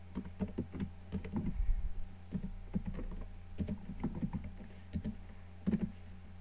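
Quiet, close keyboard typing with irregular clusters of soft key clicks over a low steady hum.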